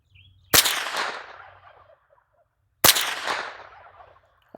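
Two sharp suppressed .22 gunshots fired a couple of seconds apart through a Canco Trapper suppressor with CCI Mini Mag ammunition, each a crisp crack trailing into a short outdoor echo.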